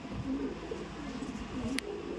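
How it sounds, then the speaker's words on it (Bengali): A female Kaldom pigeon shown for sale coos quietly among many birds and people, a couple of short low calls under a murmur of background noise. "মাদা পায়রা পুরো মস্তিতে রয়েছে।"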